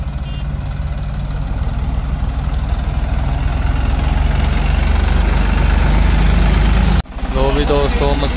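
A reaper machine's engine idles loudly and steadily on a farm during harvest, a constant low rumble close by. It cuts off abruptly near the end, and a voice is then heard speaking.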